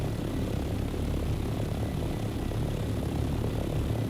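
An aircraft in the video game Dune: Awakening takes off and soars, a dense, steady engine roar with a low propeller-like drone that holds at an even, loud level throughout.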